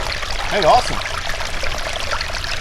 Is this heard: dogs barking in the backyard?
no